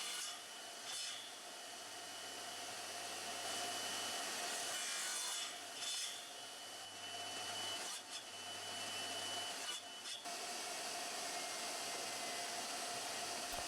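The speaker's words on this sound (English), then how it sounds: "Here I'm cutting the long dominoes into the shorter length that I need." A power saw with a push stick holding wooden dominoes cuts them to shorter lengths, a loud continuous whine and rasp of blade through wood with brief dips between passes, close and steady with no talking.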